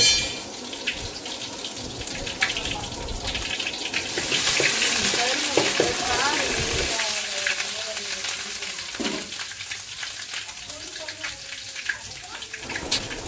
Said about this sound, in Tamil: இஞ்சி பேஸ்ட் போடுறோம். கொஞ்சம் பச்சை வாசனை போகிற வரையும் இது பண்ணிட்டு